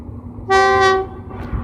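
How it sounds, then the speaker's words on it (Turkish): A TCDD E 68 072 electric locomotive hauling an ore freight train blares its horn in one sustained, loud tone over a low rumble of passing rail cars, then cuts off as the rumble continues. "Ramforlu Cevher treni gidiyor"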